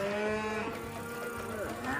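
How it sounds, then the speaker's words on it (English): Cows moo on a farm in a long, drawn-out low call, fairly close and clear, with no talk over it. "Well, Lois, a big part of owning a farm is crossing a road very slowly with cows"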